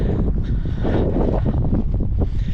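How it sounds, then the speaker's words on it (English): Strong wind roars and buffets the microphone at the highest point of beach dunes about 30 feet above the sand, a continuous loud rushing. "it's amazing the difference in the wind speed, just dropping down from the dunes to the golf course."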